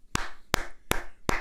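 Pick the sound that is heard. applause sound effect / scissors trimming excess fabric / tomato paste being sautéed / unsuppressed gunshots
applause sound effect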